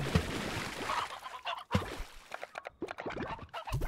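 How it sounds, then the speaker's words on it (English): A hen clucks in the video game Slime Rancer, a run of quick, choppy clucks and squawks, busy and close, mixed with other game noises. "There's a hen."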